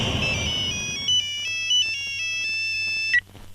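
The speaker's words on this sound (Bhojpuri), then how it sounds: "मंत्री जी का फोन था" A bright electronic phone ringtone plays a repeating melodic pattern of tones, clear and close, with no voices, ending abruptly.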